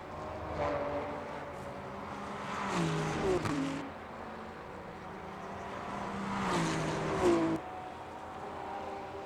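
A Ferrari race car in a racing game at Sebring, its engine droning and climbing in pitch as it passes twice, swelling loud up close then falling away, over a constant background engine hum.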